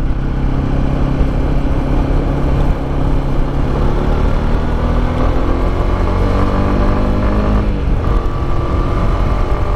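Honda CB150X 2022 motorcycle on a test ride over hills and bends, its engine droning steadily up close with rising and falling pitch as the rider shifts and accelerates, wind rushing throughout.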